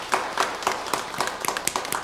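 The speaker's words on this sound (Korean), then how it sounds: "우리 박수로 우리 환영하도록 하겠습니다." A church congregation claps to welcome a new member during a Sunday service, crisp individual hand claps in a loose rhythm from a modest group, close and clear, growing slightly denser toward the end.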